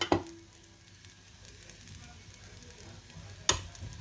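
Milk poured into a hot appam pan gives a soft, steady sizzle that hangs on quietly, opening and closing with sharp clinks of utensils nearby.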